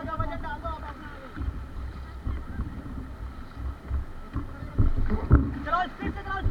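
A river raft is paddled through the water at Rishikesh, with splashing strokes and wind under an instructor's shouted commands, growing louder near the end.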